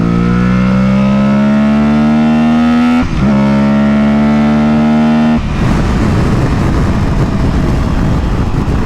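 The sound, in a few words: Aprilia Tuareg 660 motorcycle engine in third gear pull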